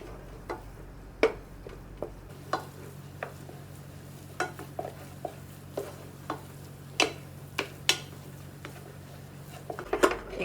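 Cream puff dough is stirred and flopped around a pan on the stove, giving scattered soft scrapes and knocks over a low steady hum.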